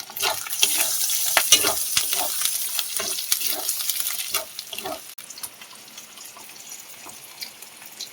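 Tomatoes tipped into a pan of frying ginger paste: a busy, hissing sizzle with scattered stirring clicks that is loud at first, then settles into a quieter, steady crackle partway through, with no speech.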